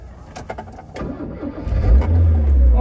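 A few light clicks and rattles, then a Toyota AE86 Trueno's engine cranks and catches during a Japanese vehicle inspection, settling into a loud, steady idle close by.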